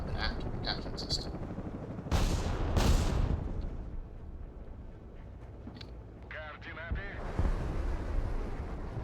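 Incoming artillery fire in the video game Broken Arrow: heavy booming impacts and blasts with rumbling battle noise, one strong burst in the middle and more shots later, mixed under a speaking voice.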